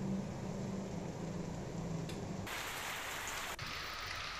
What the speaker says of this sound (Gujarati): માળિયા હાઈવે અને માળિયા શહેરમાં વરસાદ જોવા મળ્યો